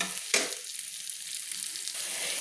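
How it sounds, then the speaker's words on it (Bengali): Spice masala for a papaya curry sizzles and fries in a pan, with a sharp stirring scrape near the start and a steady close hiss throughout. "তাই আমি ভালো করে মশলাটা কষিয়ে নিচ্ছি।"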